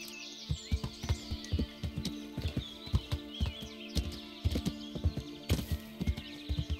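Steady clip-clop of horse hooves at a walking pace in the video game Kingdom Come: Deliverance, close and fairly loud, with faint birdsong chirping in the background.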